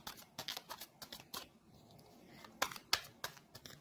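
Tarot cards shuffled and handled during a reading, a series of soft, quick riffling and flicking bursts, some sharp snaps among them, fairly close and quiet with no talk.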